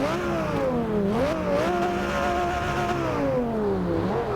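A Lamborghini engine in Forza Horizon 2 revs and holds a steady drone, its pitch dipping and rising a few times, loud and continuous with no talk.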